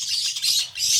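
A lovebird chatters rapidly and continuously at close range, mimicking other birds' songs, rising and falling in bursts of high, squawky chirps.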